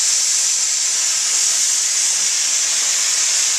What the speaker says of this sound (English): got the big old canner up there with the, got it venting right now